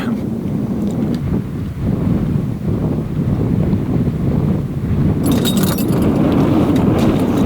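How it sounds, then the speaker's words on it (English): Strong desert wind buffets the microphone in a steady, heavy rumble, gusting throughout with a few brief rattling clicks near the end. "Just started getting so windy out of nowhere."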